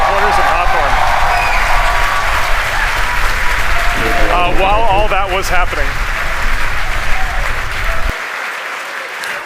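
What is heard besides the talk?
crowd cheering and applauding at SpaceX headquarters in Hawthorne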